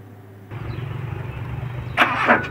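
A car that has just had a fuel pump socket with a loose contact repaired cranks with a low, labored churn, then catches and roars louder near the end, heard up close with no talking.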